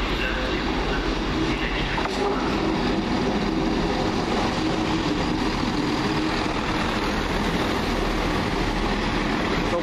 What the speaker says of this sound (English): Next coming around the corner, the 11:42 Arriva trains well service from Birmingham International to Holyhead via Shrewsbury and Chester